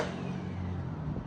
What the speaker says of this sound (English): Oh, a car.